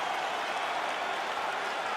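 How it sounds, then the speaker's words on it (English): A large arena crowd roars and applauds in a dense, continuous wash of noise at the end of a UFC fight, loud and sustained with no single claps standing out. "Stand and cheer, ladies and gentlemen."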